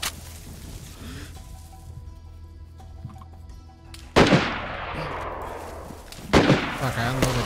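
Gunfire in the DayZ survival game: after a quiet stretch with faint voices, two sharp, loud shots ring out a couple of seconds apart, each followed by a noisy echoing tail.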